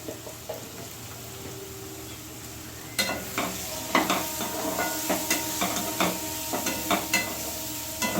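Spice paste with turmeric stirred and sautéed in hot oil, a steady low sizzle broken by repeated scraping stirs that grow louder and more frequent after a few seconds.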